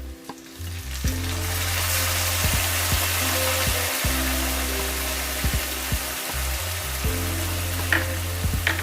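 Onion paste hitting hot oil in a pan for prawn curry in curd: loud, continuous sizzling and crackling close up, with a low steady hum underneath and occasional stirring scrapes.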